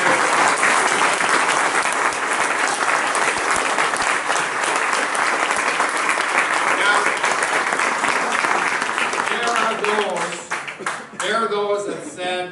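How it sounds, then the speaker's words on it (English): Loud, sustained applause from a crowd at a campaign rally in Milwaukee's Pabst venue, steady clapping for about ten seconds before fading as a speaker's voice returns. "how about a round of applause for them?"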